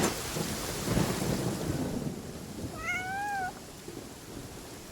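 Rain and rolling thunder in the Genshin Impact video game, a steady broadband wash with low rumbling throughout, joined briefly by a rising, meow-like cry near the end.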